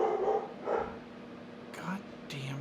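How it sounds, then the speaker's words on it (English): A neighbor's dog barks a few times at a distance, short sharp yaps spaced apart and fairly faint, with quiet voices and room noise around them. "Goddamn dog."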